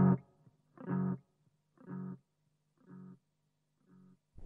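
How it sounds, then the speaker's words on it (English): A Marshall Haze 15 guitar amp's echo effect at full depth repeats a single guitar note about five times, each repeat spaced roughly a second apart and fading progressively quieter over a faint background hum. "So that's how the echo works."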